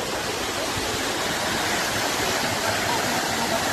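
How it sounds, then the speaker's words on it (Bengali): Basudhara waterfall crashes down at great pressure in a dense, unbroken roar of falling water, loud and close, steady from start to finish. "জলের প্রেশার বিশাল। হচ্ছে বসুধারা ওয়াটার ফলস"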